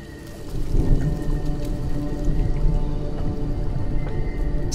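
Heavy rain in Detroit: Become Human, a steady dense patter with low rumbling underneath, continuous and fairly loud throughout, with no voices over it.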